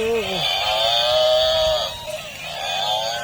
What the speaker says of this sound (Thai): นี่บัฟฟาโล